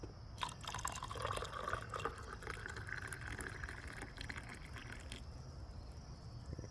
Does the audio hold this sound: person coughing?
no